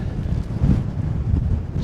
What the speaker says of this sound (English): Just getting a 360 off an incredibly windy Burnbank summit